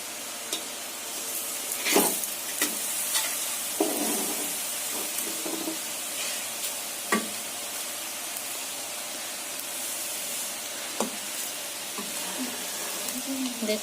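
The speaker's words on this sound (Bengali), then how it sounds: "এগুলো ভাজা হচ্ছে।" Chicken french fries frying in a pan give a steady, moderate sizzle, with occasional louder crackles and stirring knocks throughout.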